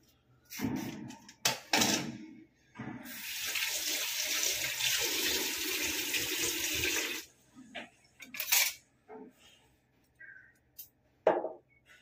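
Peeled carrots rinsed under a running kitchen tap, a steady close splash of water lasting about four seconds, framed by brief clatters and handling knocks before and after.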